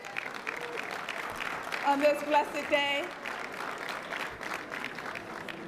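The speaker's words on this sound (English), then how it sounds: "Can we give a round of applause" A crowded morning audience at a National Action Network King Day gathering keeps up a steady round of applause while a speaker's amplified voice briefly rises over the clapping midway.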